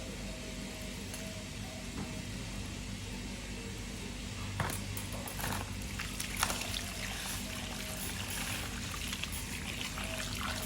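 Water pours and trickles steadily while a cut Thai caladium (bon si, Nang Mai variety) tuber is rinsed repeatedly until the water runs clearer, a continuous close splashing flow with a few brief louder splashes.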